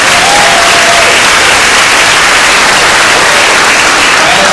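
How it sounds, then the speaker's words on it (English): Dense, loud applause from an audience at a public Constitution reading event, steady clapping throughout with no break and a faint murmur beneath. "Please give them a round of applause."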